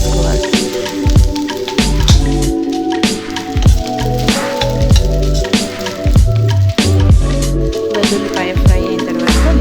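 Okra (ladies finger) pieces sizzle and crackle steadily as they fry in a pan for a curry-leaf okra stir-fry, with a dense, continuous spatter and a few louder pops close up.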